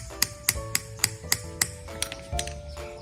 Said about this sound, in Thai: เอาตะปูมาวางไว้ตรงกลางฝาค่ะ แล้วก็เอาค้อนมาทุบค่ะ